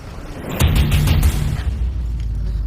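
A gunshot from the Tamil action film Kaithi goes off as a heavy, close boom, followed by a rumbling tail that holds steady with no voices over it.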